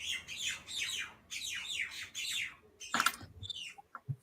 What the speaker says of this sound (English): it sounds like your birds are out there committing hate crimes.